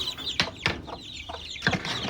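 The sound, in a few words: chickens and chicks clucking on a poultry farm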